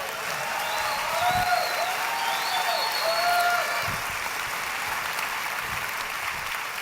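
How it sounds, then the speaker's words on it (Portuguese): A congregation applauds at a church service, a broad, sustained wash of clapping that swells slightly in the middle, with faint sung or held tones and occasional low thumps beneath it. "pode aplaudir."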